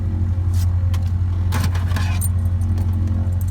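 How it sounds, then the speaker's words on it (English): Keys jangle and clink in a series of metallic rattles while different keys are tried, close up over a steady low engine drone from a vehicle, with no talking. "Don't you just love it when they give you different keys?"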